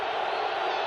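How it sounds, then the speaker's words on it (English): Sold-out Arrowhead Stadium crowd roaring during a 1997 NFL game between the Seahawks and Chiefs, a dense, sustained wall of distant cheering that holds steady throughout. "And the KC crowd, sold out Arrowhead, kicks in."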